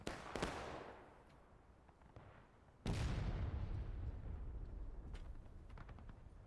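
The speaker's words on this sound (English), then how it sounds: "I heard gunshots." Two loud gunshots or cannon blasts ring out in the Smoke and Steel video game, each a sharp crack followed by a long rolling echo, the second heavier and more booming.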